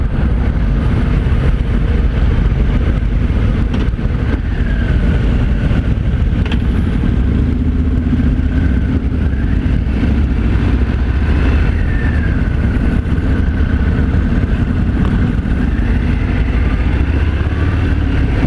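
A 2018 Harley-Davidson Fat Bob 114 engine rumbles steadily and loudly while riding, a continuous low throb mixed with wind rush and no speech.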